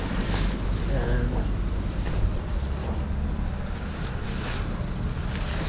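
Rough sea churns with wind buffeting the microphone and a boat's low rumble, a steady loud wash of water and gusts throughout with no pause.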